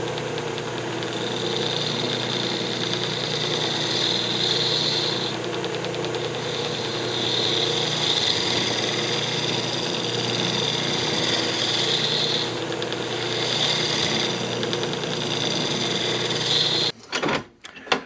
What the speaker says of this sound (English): I just used a round nose scraper here to just clean it up.